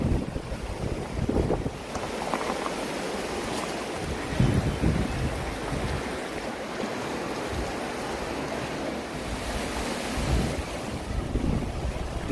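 Ocean surf rolls in along the rocky coast at Pancake Rocks, a steady roar of breaking waves mixed with gusty wind buffeting the microphone, continuous and fairly loud with no voices.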